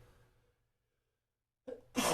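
A single sharp sneeze bursts out after a soft breath and a short quiet pause.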